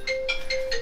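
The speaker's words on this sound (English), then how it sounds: "I had to answer that phone call." A phone ringtone for an incoming call sounds in four clear, evenly spaced electronic bursts over a steady tone, loud and close with no talk.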